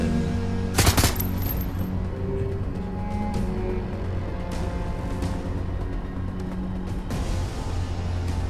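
A sniper rifle fires in the video game Shadowrun: Hong Kong, a single sharp, loud shot near the start that fades into a low, steady game ambience.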